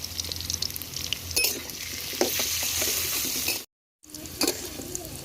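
Potato pieces seasoned with salt and turmeric fry in hot oil in a pan during rooftop evening cooking, a steady close sizzle with scattered pops and clinks that cuts out briefly near the end, then resumes.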